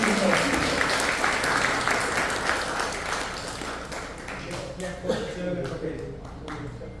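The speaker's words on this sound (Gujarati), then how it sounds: "મહેશભાઈ માટે ખાસ તાળી પાડો." An audience at an event honoring seniors aged 85 and over claps together, a dense applause that is loud at first and gradually fades, with voices in the background.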